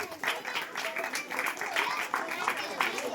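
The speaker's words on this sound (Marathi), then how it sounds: "टाळ्या वाजवा यांच्यासाठी." At a prize-giving ceremony held by a local friends' association, the audience claps steadily for the young winners, with voices mixed in beneath the applause.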